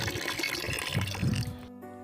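Lime and copper sulfate solutions are poured together in an even stream to make Bordeaux mixture, giving a close, steady splashing pour that tapers off and stops near the end, with no talk.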